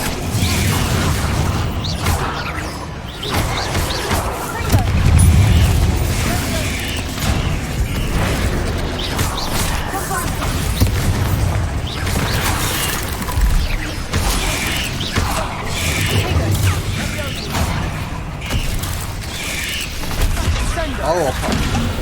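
Repeated Confringo fire-spell explosions from Hogwarts Legacy, dense booming blasts and crackling impacts running continuously at steady loudness, mixed with game effects and a voice calling out spells throughout.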